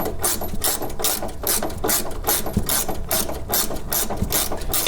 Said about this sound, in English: So it looks like I'm going to need an adjustable or a quick speed wrench.